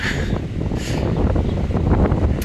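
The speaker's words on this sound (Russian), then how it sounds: "Боюсь, из-за ветра плохо слышно все будет." Strong wind buffets the microphone outdoors at a beach hotel, a steady loud low rumble with gusty swells throughout and no clear speech.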